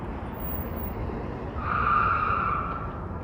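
Car tires skid with a rising squeal on a busy road at Branch Brook Park in Newark, New Jersey, during cherry blossom season. The screech swells midway over steady traffic rumble, then trails off.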